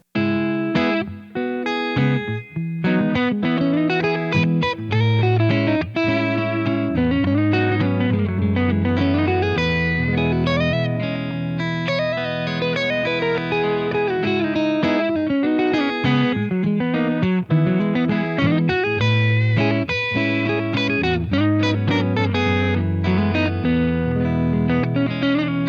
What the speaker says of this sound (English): Now I already have a loop saved on the RC1